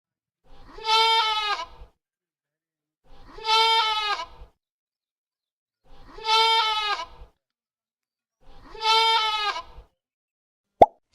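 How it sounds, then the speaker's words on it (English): A goat bleats four times, each call a drawn-out nasal bleat lasting over a second, evenly spaced with quiet gaps between, close and alone, ending with a brief click. "Goat."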